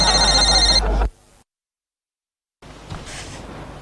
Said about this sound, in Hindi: देखना फोन बज रहा है